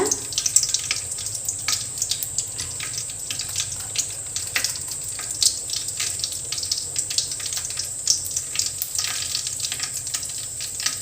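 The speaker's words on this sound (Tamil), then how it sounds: "கடுகு பொரியட்டுங்க." Mustard seeds and urad dal splutter in hot oil while tomato thokku is made, producing a continuous dense crackle and sizzle with rapid tiny pops, close and steady throughout with no talking.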